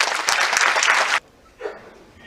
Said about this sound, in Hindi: एक बार जोरदार ताली इस फिल्म के लिए बजा दीजिए।